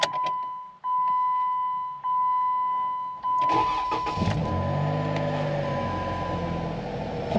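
A 2013 Jeep Wrangler is started: door chimes and key-on tones sound first, then the starter cranks and the engine catches and settles into a steady, close idle.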